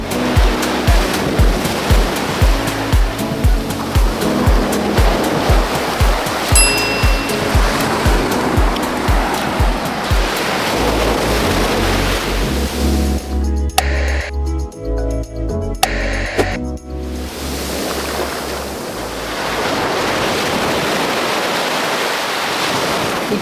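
Surf rolling onto the shore at Hollywood Beach, Florida, loud and close, with repeated wave washes and gusts of wind buffeting the microphone, then a steadier roar of breaking water.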